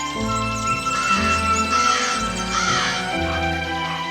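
Animated cartoon crows caw repeatedly in a nesting-season story about crows and a serpent, with loud, close calls overlapping one another over light tinkling background sounds.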